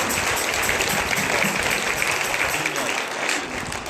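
Church congregation claps for the children's church group; a thick wash of hand clapping runs throughout, with murmured voices faintly underneath.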